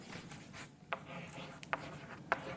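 Marker or chalk strokes on a classroom board during an English lesson give soft scratchy rubs and a few sharper squeaky taps, close and quiet, with no speech over them.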